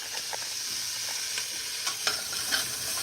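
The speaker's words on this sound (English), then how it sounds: "now I'm gonna saute it all together" Celery and other soup vegetables sauté in a pot for chicken noodle soup, a soft continuous sizzle broken by several light scraping stirs and small clinks, with no voices.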